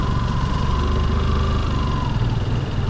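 Motorcycle engine droning steadily at close range during a group bike ride in the rain, an even low hum with no talk.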